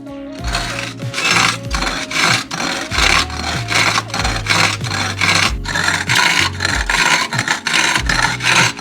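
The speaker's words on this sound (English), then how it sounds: "this plate grinds against this plate, turning everything in between to powder" A plate grinder crushes black sand between its grinding plates, giving a loud, continuous gritty rasping with a rhythmic scraping pulse and low rumbling underneath.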